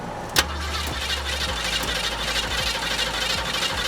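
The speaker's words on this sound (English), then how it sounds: "Okay, let's try starting it." A Ford Ranchero with troublesome wiring cranks and catches. A sharp start-up burst is followed by a steady, close engine running at idle.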